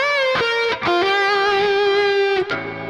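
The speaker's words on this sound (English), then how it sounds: "A little reverb, maybe some delay on it." A single sustained lead line from a Jackson DK Modern Ash FR7 seven-string electric guitar carries light distortion, reverb and delay. A brief slide leads into a long held note, then a final picked note, loud and up close with no voices.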